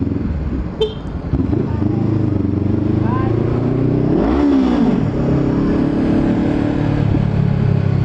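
A Honda CBR500R big bike engine runs steadily and loud throughout, with a brief rise in revs near the middle, while a person talks over it.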